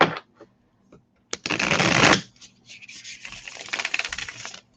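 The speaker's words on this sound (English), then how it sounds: "We got a good shuffly mix here." Tarot cards are shuffled by hand during a live reading, giving a loud, close burst of riffling and rustling followed by softer, uneven shuffling and card slaps, with no talking.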